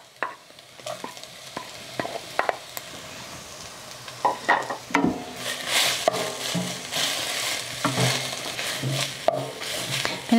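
Shredded beef, first cooked with onion, being stirred in a pan for steamed tacos, with irregular scraping and clattering strokes over a low sizzle that grows denser and louder toward the end.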